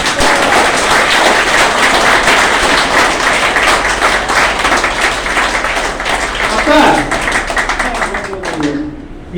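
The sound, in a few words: audience clapping at a DXN meeting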